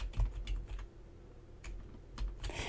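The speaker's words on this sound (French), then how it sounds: "J'ai le chat sur le clavier" A cat treading across a computer keyboard during a home gaming session, giving scattered soft key clicks and taps in irregular bursts, close by with no voices.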